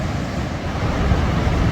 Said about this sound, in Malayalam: ഇതിലങ്ങോട്ട് ചാടി പോവുകയാണ് വെള്ളം.